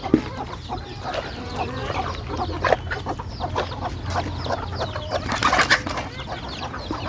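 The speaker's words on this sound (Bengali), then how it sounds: "আর এই যে বাচ্চা মুরগি দেখতেছেন" Several chickens, including chicks, cluck close by while feeding in an irregular, busy pattern, with scattered short squawks and chirps and no talking.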